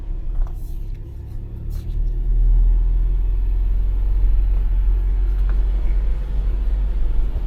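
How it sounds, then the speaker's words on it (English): A Toyota Tacoma TRD Off-Road engine drones low and steady while crawling, its throttle easing up gradually into a sustained, rumbling hum with no voices. "I can actually hear the truck slowly ramps up the throttle"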